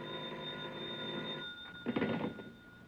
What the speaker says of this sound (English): And then a bell started ringing somewhere and woke me out of a sound sleep.